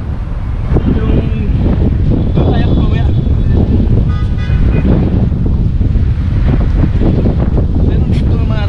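Loud, steady wind buffeting the microphone in a park in Doha, Qatar, with a deep roaring rumble throughout, traffic or distant horns faintly mixed in.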